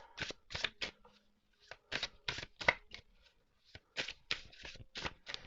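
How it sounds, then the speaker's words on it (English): A deck of oracle cards being shuffled up close, with quick bursts of riffling and snapping cards in uneven clusters separated by short pauses. "So let's just shuffle and pull 3 cards."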